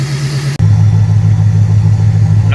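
A car engine running after a PI camshaft swap, close and loud, with a brief dropout followed by a steady, choppy low idle rumble.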